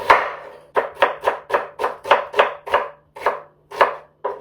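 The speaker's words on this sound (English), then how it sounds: "I'm gonna go ahead and cut the rest of these up" A knife slices through onions on a cutting board in a steady run of about a dozen crisp, close thuds, each followed by a brief decay, with short pauses near the end.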